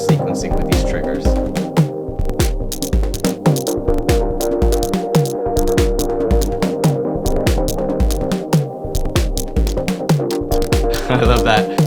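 A Eurorack percussion sequence built with the Cuisine module plays as a dense, rhythmic stream of sharp clicks and pitched hits over a sustained tonal drone, loud and continuous with no voices.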